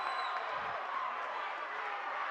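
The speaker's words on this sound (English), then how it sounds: "Listen to this crowd." Steady crowd noise fills a high school basketball gym during a close Ponca vs Wynot game, a continuous roar with faint cheering, loud and unbroken throughout.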